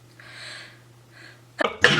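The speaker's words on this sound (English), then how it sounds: "I had to sneeze." A single person sneezes close by, with a soft breathy inhale building up before one sharp, loud burst near the end.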